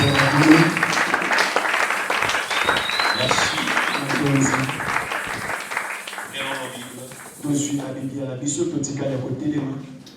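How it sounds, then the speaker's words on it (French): A church congregation at a Thursday miracle service claps and cheers loudly for the Lord, dense applause that tapers off and then swells again briefly while a voice speaks over it. "Acclamons très fort pour le Seigneur."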